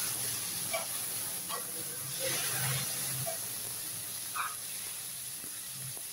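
Tomatoes sizzling as they go into frying onions for a Tamil-style chicken gravy, a steady soft hiss with small crackles and spits, fairly quiet and close, with no talking.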